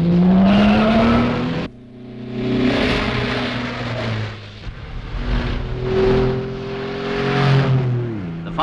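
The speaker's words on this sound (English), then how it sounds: "Will Sparrow's Vauxhall Magnum, one of the biggest cars in the rally." A Vauxhall Magnum rally car races through a stage of the RAC Rally in the Yorkshire Dales, its engine revving and rising in pitch through gear changes, with tyre squeal and a brief drop between passes, loud and close.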